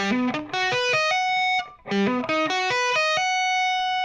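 A distorted electric guitar plays a rapid rising major arpeggio ending on a sustained note, then repeats the same run after a short gap, from a guitar solo.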